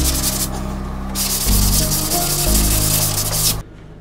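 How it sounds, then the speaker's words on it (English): A drywall sponge rubs lightly over dried joint compound on a ceiling repair patch, giving a steady close abrasive swishing with back-and-forth strokes, then stopping abruptly. "Now we're gonna do a light sand with a drywall sponge."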